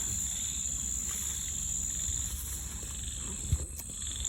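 Frogs calling at night in a field in rural Isan, a faint, continuous chorus blended with shrill insect trilling and an occasional soft thump nearby.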